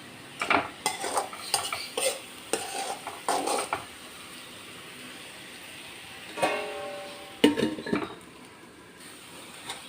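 A spoon scrapes and knocks rhythmically against a pan as curry leaves are stirred into beans thoran, with a soft sizzle underneath and a few louder metallic clanks near the end; no one talks.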